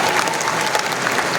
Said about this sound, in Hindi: ताली से स्वागत करिए।